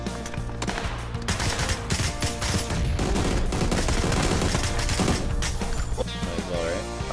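Dense, sustained automatic gunfire in the video game PUBG, loud and close, with overlapping shots and a crash-like clatter forming a nearly continuous barrage.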